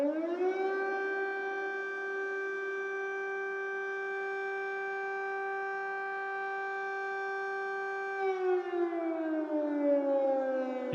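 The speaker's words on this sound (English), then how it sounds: "Let me know if the siren is too loud or not." A civil defense air raid siren wails in Kyiv, holding a long steady tone for about eight seconds before its pitch winds down, loud and sustained with no talk.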